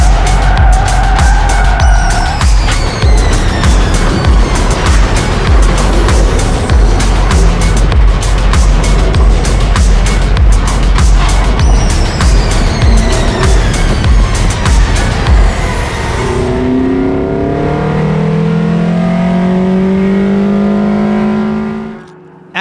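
Toyota Yaris race car in a series finale, engine roaring loud and close with harsh tire noise as it runs off track, then the engine note drops to a lower, steadier idle before cutting off.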